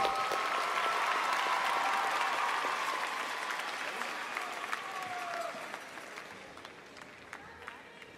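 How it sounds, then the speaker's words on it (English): Steady applause from a large convention audience as a nominating committee leaves the stage, a dense even wash of clapping that slowly fades over several seconds, with a faint tonal hum in the room. "Let's give one more round of applause to our nominating committee as they exit the stage."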